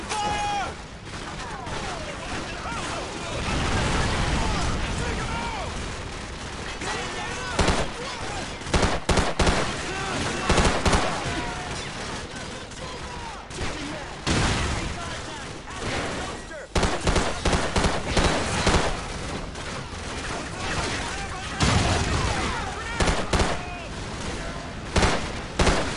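Sustained suppressing gunfire in a Call of Duty 4: Modern Warfare battle, with dense bursts of machine-gun and rifle shots that rattle on almost continuously, loud and close, with occasional booms. Shouted voices break through now and then.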